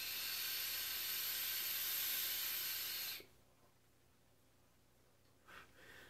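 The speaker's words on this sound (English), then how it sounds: "See, now I do an upside down vape" Vapor hissing through a Joyetech eVic VT atomizer coil during an upside-down vape, a steady, loud breathy hiss lasting about three seconds that cuts off sharply, followed by a faint quiet stretch with a brief soft puff.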